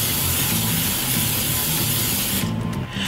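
A baking pan is greased with a steady, close spray-like hiss and rubbing sound that runs almost without a break, thinning briefly near the end.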